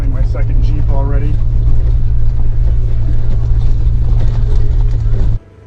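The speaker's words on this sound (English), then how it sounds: "I'm passing my second Jeep already" A Jeep drives along a popular off-road trail with a steady, loud, low engine rumble throughout, a voice talking briefly near the start, before the sound cuts off abruptly.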